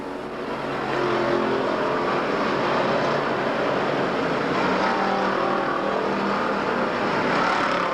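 Race cars roar down the back straightaway during a 150-lap enduro, a continuous loud engine drone that swells in after a quieter start and holds steady, with no voices.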